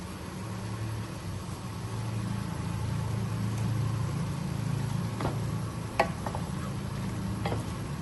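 Spices stirred and frying in a pan for achari beef gosht, a steady, even sizzle with a few scattered utensil clinks near the end, close by and without any talking.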